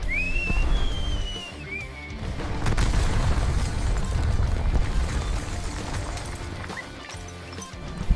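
A bomb released from a Gripen fighter jet in a Flight Simulator game: a falling whistle, then a loud, sustained booming rumble over a continuous game soundtrack.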